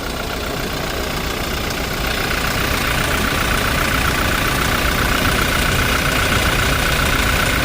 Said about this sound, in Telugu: ఇంజిన్ సౌండ్ అయితే మాత్రం చాలా ఎక్సలెంట్గా ఉంది